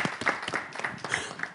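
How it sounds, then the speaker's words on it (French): Studio audience on a television show clapping: a short burst of dense, moderately loud applause from many hands, with no voices over it. "On applaudit très fort, s'il vous plaît."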